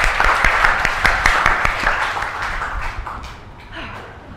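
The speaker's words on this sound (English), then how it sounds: "A round of applause for our host." Applause from a comedy-improv audience greeting the host, starting as a lively patter of clapping with crisp individual claps, then thinning and fading toward the end.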